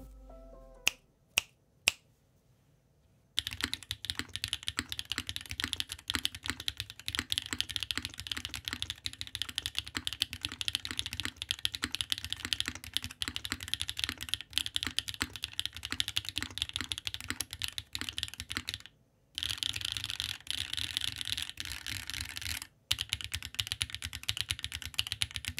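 Typing on a top-mounted 60% Hand Engineering 2000 SE keyboard with an aluminum plate, Keygeek T6 switches and GMK Botanical keycaps. A few sharp single clicks come first, then a long run of fast, steady, close keystrokes with brief pauses.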